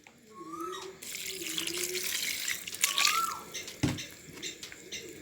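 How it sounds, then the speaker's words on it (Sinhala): Milk is poured into a pot for cowpea milk rice, a continuous soft liquid splashing and trickling that builds and then tapers off, with a faint clink near the end. "අපි කිරි ටික එකතු කරගමු."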